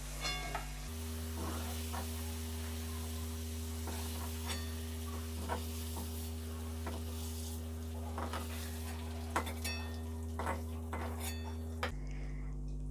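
Paneer pieces frying lightly in a pan, with a steady low sizzle and hum running throughout, punctuated by scattered clinks and scrapes of a utensil against the pan, close up and with no talking.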